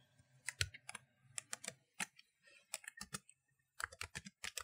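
Keyboard shortcut keys tapped on a computer keyboard, with crisp clustered clicks in uneven bursts and short pauses between them, close and clear with no voices.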